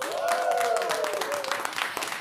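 Audience clapping in a trot singing class, a steady patter of hands under a sustained sung or spoken voice, brief and fairly close.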